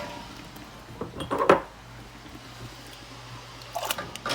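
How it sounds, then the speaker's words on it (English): Twelve glass canning jars clink and knock against each other as they are set down into a pot of water, a few distinct clatters with quiet gaps between. "I'm going to take all of the jars that I have ready and put them in the water."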